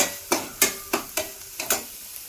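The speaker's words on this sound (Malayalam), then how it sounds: "ഇത് രണ്ടും കൂടെ ഒന്ന് ചെറുതായിട്ടൊന്ന് ഫ്രൈ ആകും." Crushed green peppercorns frying gently in a pan, with a spoon stirring in about seven quick scrapes over a soft steady sizzle, close and quiet.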